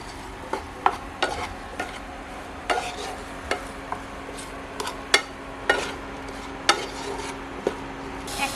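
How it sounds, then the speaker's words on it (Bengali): Potato and cauliflower pieces with turmeric and salt are stirred in a pan on a village stove, with a soft sizzle underneath and a series of sharp clinks and scrapes of the spoon against the pan. "এরপর ভালোভাবে নেড়ে দেব।"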